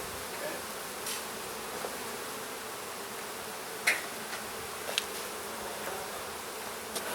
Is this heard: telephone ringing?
no